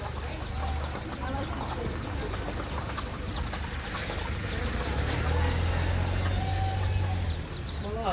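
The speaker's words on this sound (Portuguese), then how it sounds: "Olha lá como os pintinhos andam pertinho da mamãe" Clucking of a hen with her chicks on a rural farm, soft repeated clucks and faint peeping carried over steady outdoor background noise, with a low hum and people talking nearby.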